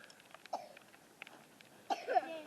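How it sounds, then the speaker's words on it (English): A short, sharp cough followed about a second later by a rougher, louder cough with a throaty rasp, heard close with faint background noise. "is that a cough?"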